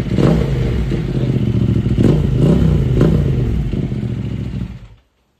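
A motorcycle with a Vmax racing exhaust revs loudly with a few sharp throttle blips over a rough rumble, then cuts off abruptly near the end.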